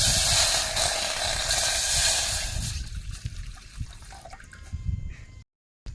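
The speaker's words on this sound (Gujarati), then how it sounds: "હવે તો પાણી નાખીએ" Water is poured in while chutney for Gujarati-style samosas is being made, giving a steady, close hiss that fades to a quieter trickle partway through.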